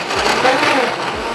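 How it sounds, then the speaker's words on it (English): Blender whirring through lemonade and frozen strawberries, a short steady dense burst lasting about a second, fairly loud and continuous. "Let's blend it up for just a second."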